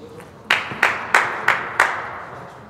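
At a college table tennis tournament, five sharp, evenly spaced claps ring out close by, each fading quickly into a soft room hum.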